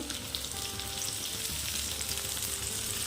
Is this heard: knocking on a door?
no